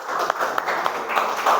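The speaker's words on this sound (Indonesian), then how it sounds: "kasih tepuk tangan untuk kelompok 1" Applause for group 1 in an Indonesian classroom lesson, a short burst of students clapping, moderately loud with scattered individual claps and no talk over it.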